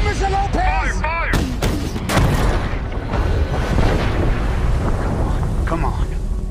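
Naval gunfire from a warship in a Battle of the Atlantic war film: heavy, loud booms and rumbling blasts under a dense cinematic mix, with shouted voices near the start.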